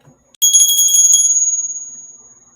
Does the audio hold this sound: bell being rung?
yes